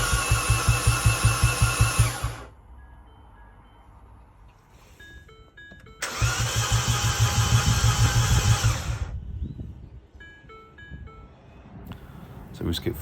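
A big turbocharged Mini engine starts for the first time, sped up. It gives two loud, rapid, chattering bursts of running, separated by quieter stretches with faint tones in between.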